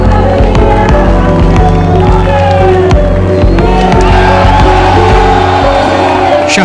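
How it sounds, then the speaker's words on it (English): A large Córdoba crowd at the Dakar 2018 rally finish podium cheers, whoops and applauds the car finishers, a loud, dense, continuous roar of voices and clapping with scattered shouts. "Chapeau to all the finishers in the cars, greeted with applause and respect by the amassed Cordobese as they take the podium"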